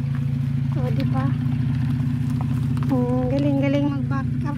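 A delivery truck backs up with a steady, loud engine drone, while several people talk over it throughout.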